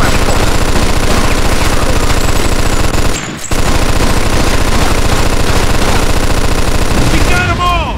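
Rapid, sustained automatic gunfire from a shootout at a building window in the crime game Mafia 2, loud and relentless with a brief pause midway before the rattling bursts resume.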